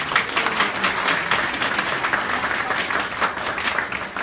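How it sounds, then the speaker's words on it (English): An audience at a 2017 Ward 5 city councillor debate gives a sustained round of applause, a dense, steady wash of many hands clapping throughout with no voices over it. "Ladies and gentlemen, you can give a really big round of applause."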